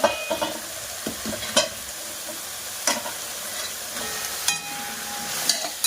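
Cooked drumsticks being stirred into red masala frying in oil, a constant sizzle with several sharp scrapes and knocks of the spoon in the pan, close by, with no talking.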